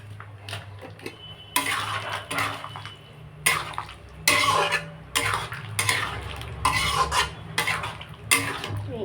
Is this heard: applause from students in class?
no